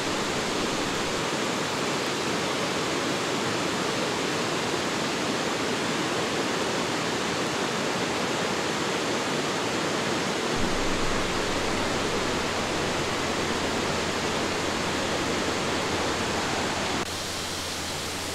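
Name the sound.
La Fortuna waterfall in Costa Rica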